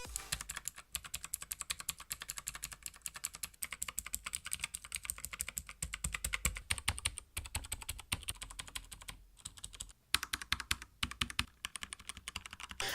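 Fast typing on an HCman budget mechanical keyboard, a dense run of crisp clicky keystrokes with brief pauses, close and alone without voices.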